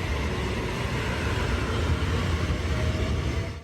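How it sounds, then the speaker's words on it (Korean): A Nuriro passenger train pulls out of Jeongdongjin station toward Donghae, a steady close rumble of wheels on rails that fills the scene and then drops away abruptly at the end. "누리로는 이제 정동진역을 떠나 동해역으로 향합니다"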